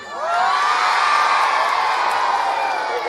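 Audience at a game-show dance contest erupts in loud cheering and yelling, swelling quickly and holding as a dense, steady roar of many voices.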